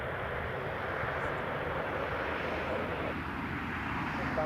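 An aircraft at Newcastle International Airport rumbles with a steady, moderately distant engine roar while taxiing, holding constant throughout.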